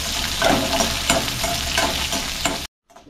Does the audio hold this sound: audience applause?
no